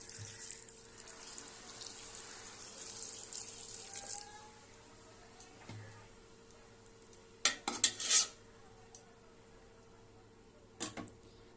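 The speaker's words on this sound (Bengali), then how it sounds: "এবার আমি অল্প করে জল দিয়ে দেবো।" A small amount of water is poured into a pot of vegetable pulao, rice topped with scattered vegetables, making a soft, faint pouring hiss, then a few light metallic clinks of a utensil against the pot.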